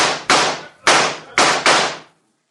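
Four sharp, loud gunshots in quick succession, each with a short ringing decay, then silence.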